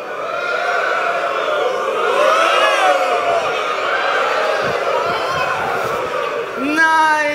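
A large audience at a live tech talk cheers and shouts in a sustained, loud wash of voices as they do a Mexican wave across the room, with a brief rising whoop near the end.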